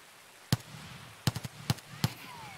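Distant gunfire in an Escape from Tarkov firefight: four separate sharp cracks spaced irregularly, one followed by a quick pair of softer shots, standing out against a quiet background.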